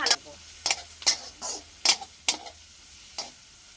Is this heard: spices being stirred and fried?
yes